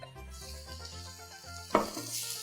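Tomatoes and garlic get stir-fried in a pan for a Thai prawn vermicelli pot, producing a soft sizzle and utensil scrapes with one sharper clatter near the end.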